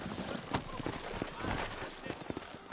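Horse hooves clip-clop at a steady walking pace in the Red Dead Redemption game, a quiet rhythmic patter of hoofbeats with several louder knocks, heard beneath ambient noise and talk.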